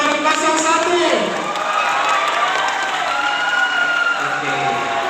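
Applause and cheering for candidate pair number 01 rise from a school audience at a student council election debate at SMK Negeri 2 Makassar, a broad, steady wash of clapping and crowd noise filling the room.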